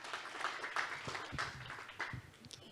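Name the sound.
audience applause for a speaker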